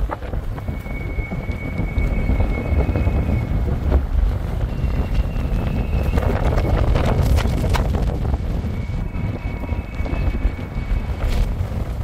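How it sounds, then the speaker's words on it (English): Strong, cold wind blows outdoors at the zoo, a loud continuous roar buffeting the microphone with low rumbling gusts and no one talking. "especially with all this wind."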